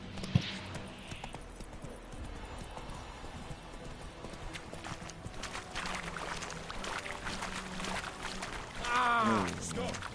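Horse hooves clip-clop in The Witcher 3 video game, a steady rhythm of close footfalls under game sounds, with a brief splash or whinny-like sound near the end.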